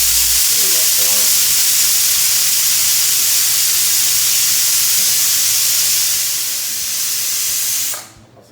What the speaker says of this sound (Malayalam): ഇനി കുക്കർ അടച്ച് വെച്ച് ഒരു മീഡിയം ഫ്ലെയിമിൽ 3 വിസിൽ വരുന്നത് വരെ